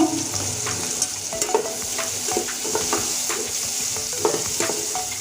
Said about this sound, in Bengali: একটু লবণ দিয়ে দিচ্ছি পেঁয়াজটা তাড়াতাড়ি ভাজা হবে তার জন্য